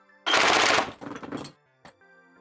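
NERF M134 Minigun blaster firing a 6-shot burst, a loud rapid whirring rattle for about a second, then a shorter spinning burst and a brief click, indoors in a studio.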